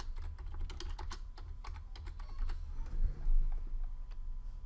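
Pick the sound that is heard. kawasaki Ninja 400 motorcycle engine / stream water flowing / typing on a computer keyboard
typing on a computer keyboard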